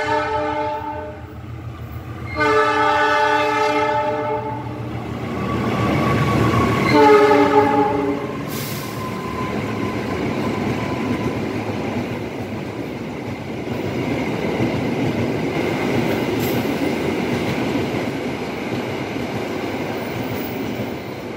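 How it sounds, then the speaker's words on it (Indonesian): A train at a station in Yogyakarta sounds its horn in two long blasts, then rumbles and clatters steadily past, loud and close. "Tuh ada kereta api ntar."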